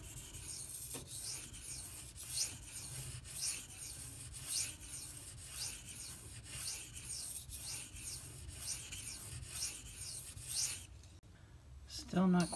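An S90V steel knife blade drawn across King and Suehiro Cerax whetstones, giving a close, steady rhythmic scraping and rubbing in repeated strokes, with a short clatter near the end.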